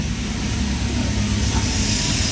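A Toyota Avanza engine with low power and delayed throttle response idling, a steady low rumble with a continuous even drone and no speech.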